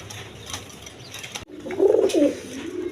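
Pigeons cooing in a loft, a low throaty coo swelling near the end after a brief gap, with faint rustling and no talk.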